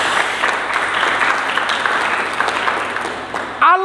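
A church congregation at a Pentecost service claps for Jesus Christ, a dense steady wash of applause that cuts off abruptly, followed by a brief burst of voice at the very end.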